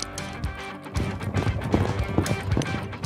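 Hooves of a two-year-old thoroughbred racehorse clip-clop in a quick, running rhythm, fairly close and loud, with a busy mix of other sound and a brief whinny-like cry layered around the steps.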